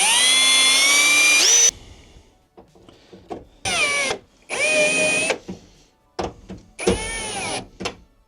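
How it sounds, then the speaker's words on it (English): A power drill whines loudly in several separate bursts, drilling holes for self-tapping screws on a Mercedes Sprinter van, each run starting and stopping abruptly with quiet gaps and clicks between them. "So that we can drill them out and then put the self tappers in."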